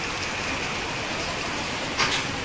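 Heavy rain with hail pours down in a Konkan downpour, a steady dense wash of noise with a brief louder burst near the end.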